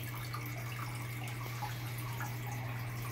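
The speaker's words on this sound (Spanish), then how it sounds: "que el agua esté fluyendo" Water flowing steadily in a tank of blue shrimp, a quiet continuous trickle kept moving for oxygen, over a low steady hum from the equipment.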